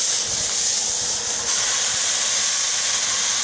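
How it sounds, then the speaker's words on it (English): Loud, steady sizzling hiss of burgers cooking between two hot grilling stones on a Weber kettle grill, continuous and close, with faint crackles underneath. "Listen to those burgers sizzling away between those two grilling stones."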